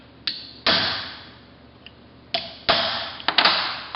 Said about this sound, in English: Transfer punch.